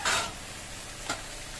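Tomatoes and raisins drop into a hot pan with a sudden burst of sizzle, settling into a steady frying hiss with a second short stirring scrape shortly after.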